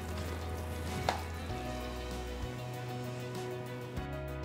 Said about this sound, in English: Now masala is done, we will add our chickpeas.